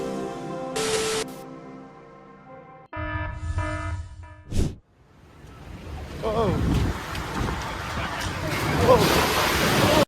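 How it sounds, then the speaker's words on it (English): Ocean surf on a turquoise coast, a roaring wall of water swallowing the shoreline: after a tonal opening and a short sharp burst, broad loud wave wash builds and holds steady to the end. "What looked like a calm turquoise sea suddenly turned into a roaring wall of water, swallowing the entire shoreline."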